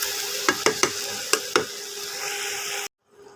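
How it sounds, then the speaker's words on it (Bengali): Mango pickle cooks in melting sugar as it is stirred, giving several sharp scraping stirs in quick succession over a bright continuous sizzle, before cutting off to near silence. "এবার এটাকে ভালো করে নাড়াচাড়া করব। এই চিনিটা যতটুকু গলবে আমটাও তার মধ্যে সেদ্ধ হবে।"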